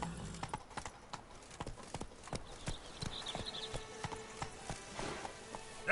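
Roach, Geralt's horse in the game The Witcher 3: Wild Hunt, trotting with quick, rhythmic clip-clop hoofbeats at close range, and a brief snort near the end.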